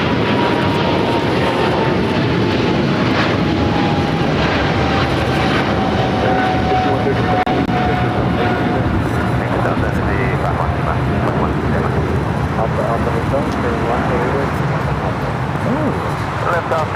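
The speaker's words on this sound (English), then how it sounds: "China Airlines Cargo 777 freighter now taking off 25 right." A China Airlines Cargo Boeing 777 freighter takes off from runway 25 right at LAX, its jet engines roaring loud and steady throughout with a slowly falling tone, while a voice talks over the noise.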